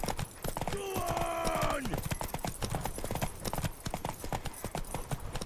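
Horse hooves clip-clop in a steady brisk rhythm in The Witcher 3: Wild Hunt, close and continuous, with a brief whinny and someone talking over the hoofbeats.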